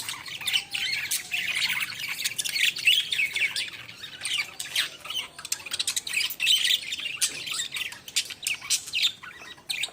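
A flock of birds squawking and chirping on a household rooftop, sharp overlapping calls coming in quick, irregular bursts at moderate distance with no voices.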